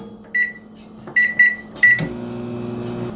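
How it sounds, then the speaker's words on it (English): A microwave oven heats a mug of almond milk: three short electronic beeps, then a door thump and a steady low hum as the oven starts running. "I have a mug full of almond milk and into the microwave."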